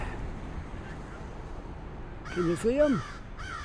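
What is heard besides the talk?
crow cawing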